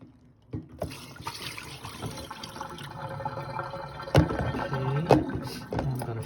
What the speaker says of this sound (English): I just want you to see this water before I pour it out.